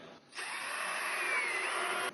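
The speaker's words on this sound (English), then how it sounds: "So we're in with the drill." A power drill whirs steadily for about two seconds as it enlarges a nail hole in a punctured tyre during a repair. The high, even whine starts and stops abruptly, with no talking.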